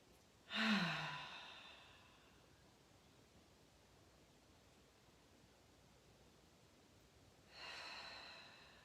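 Two deep yoga exhalations in a calm gentle practice, each a close, breathy sigh with a little voiced tone, several seconds apart with near silence between, no talking.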